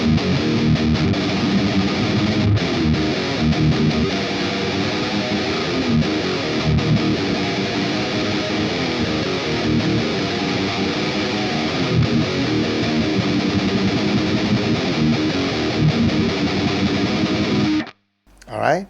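Loud, dense distorted electric guitar chords in Eb tuning, played as part of a death metal song, holding a steady churning roar for about seventeen seconds before cutting off abruptly.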